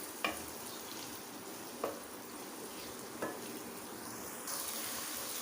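Tomatoes frying in a pan for a white lobiya dish make a soft continuous sizzle, with three distinct scrapes of a spoon spaced about a second and a half apart.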